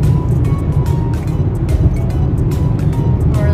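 A car drives on the highway from Calgary to Edmonton, heard from inside as a loud, constant low road and engine rumble with steady tire roar and no pauses.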